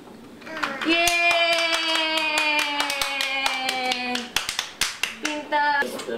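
Hands clap close by during a toddler's color-learning play session, a run of crisp claps over a bright, sustained musical tone, then several louder, separate claps near the end.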